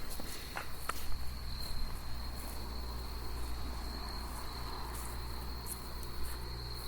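Crickets chirp outdoors at night in a steady high-pitched drone, a dense chorus holding through the whole stretch over faint low background rumble, with a few soft rustles near the start.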